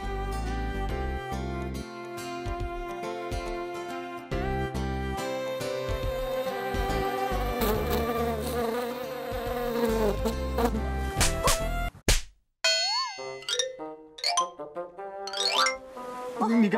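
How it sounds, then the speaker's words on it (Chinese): Mosquitoes buzz in a hilly countryside setting, a thin whining drone with wavering pitch that follows a loud, dense musical passage, close and fairly loud with brief voices in between. "这边蚊子真的超多的哎。"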